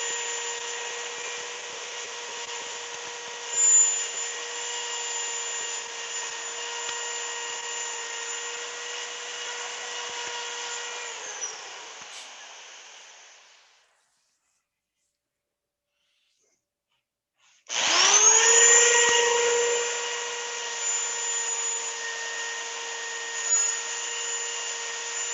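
A wooden three-sided box spinning on a lathe under sandpaper, giving a steady whine and hiss that winds down into silence for a few seconds, then restarts abruptly and runs on steadily, close and loud.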